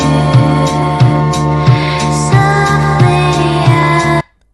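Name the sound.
AI-generated song made with Udio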